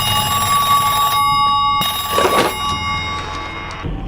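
A telephone rings with bright, repeated electronic bell tones, broken by a short pause, with a clatter in the middle before the ringing fades.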